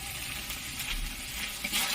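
Ground spices (red chilli, turmeric and Kashmiri chilli powder) frying in oil in a pan, a soft, steady crackling sizzle with faint stirring scrapes, alone and fairly quiet.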